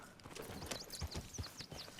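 Horse hooves in Red Dead Redemption 2, a steady clip-clop gait of a ridden horse, soft and fairly distant, with faint bird chirps in the background.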